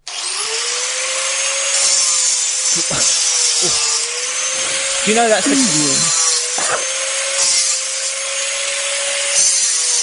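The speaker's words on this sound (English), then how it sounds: "Is that a Makita XAG11T?" A Makita XAG11T cordless angle grinder runs with a steady whine throughout, with a short pitch wobble midway as people talk over it.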